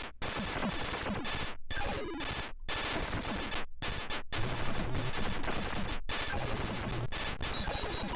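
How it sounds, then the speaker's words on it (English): Explosions and blasts from a game in the Atari 50 anniversary collection: dense, chaotic bursts of noise that keep going, broken by several short drops into silence, loud throughout with no speech. "Oh, did I die? That was a big explosion."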